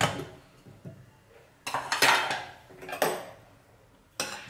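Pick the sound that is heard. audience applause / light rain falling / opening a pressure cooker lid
opening a pressure cooker lid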